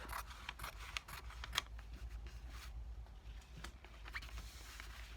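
Scissors snip away spare fabric from an appliqué lampshade panel in a string of small, irregular clicks and crisp cuts, close but quiet, with no voices.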